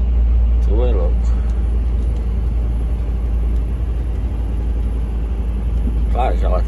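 A loaded truck climbs a hill at low revs, a deep, steady engine drone heard from inside the cab, continuous and heavy, with people talking over it.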